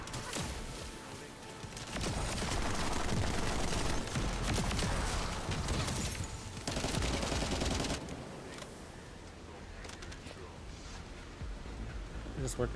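Repeated heavy weapon fire from a shoulder cannon in The First Descendant, a loud sustained barrage of rapid blasts dominating the first half, then lighter continuing fire with game noise.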